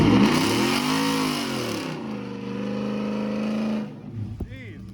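A Ford Raptor pickup's engine revs hard on a muddy off-road trail, a loud roaring sweep that holds and then falls away, with a short rising rev at the end.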